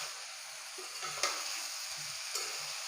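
Eggplant and fish sautéing together in a pan, giving a quiet continuous sizzle with a few soft stirring scrapes and clinks of the utensil.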